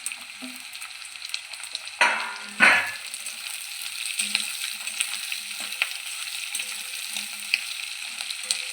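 Chopped peppers fry with a constant sizzle; two louder stirring scrapes come early, then the hiss continues with light clinks.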